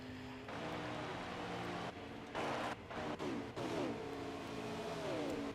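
A race car pulls out of pit road and accelerates, its engine droning and revving in several rising surges, moderately distant amid steady track noise.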